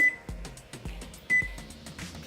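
Control beeps from a kitchen stove and oven as the heat is turned up, several short, clear electronic tones spaced about half a second apart, with a thud and light kitchen handling noise underneath.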